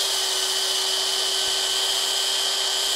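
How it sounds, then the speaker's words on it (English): Power drill boring a hole into a metal clamp, heard as a steady, loud high-pitched whine that runs unbroken for the whole stretch with no talk over it. "I'm gonna be able to drill the hole"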